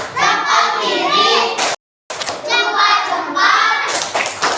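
Schoolchildren in a primary school classroom chant together while clapping their hands in a loud rhythmic pattern, broken by a brief silent gap, then the chanting and clapping resume.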